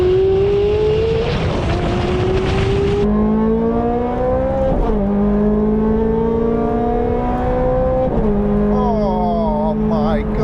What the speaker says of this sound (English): did you hear that Challenge Stradale take off then?